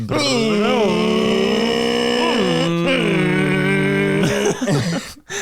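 A voice imitates a race car engine, sustained buzzing revs that rise and fall in pitch like gear shifts, loud and close, trailing off at the end.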